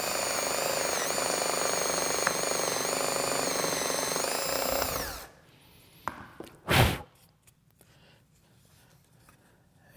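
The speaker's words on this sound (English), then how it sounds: "So now I just want to drill 1 inch deep." A power drill with a brad point bit bores a 1-inch-deep hole in wood for a child's rocker arm: a loud, steady whine for about five seconds that stops abruptly, followed by a quiet shop, a couple of soft knocks and a brief thump.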